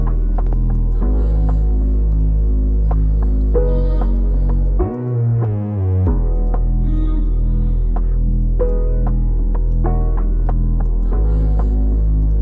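An electric hair clipper runs continuously through a high taper haircut, a loud steady buzzing hum with a brief dip in pitch midway as it moves against the hair, and no talking.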